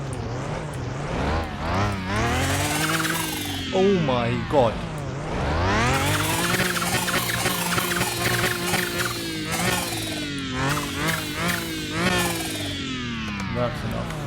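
A Pagani supercar engine starts and is revved repeatedly in a workshop, its loud exhaust note sweeping up and down in several bursts. A person briefly exclaims over the roar.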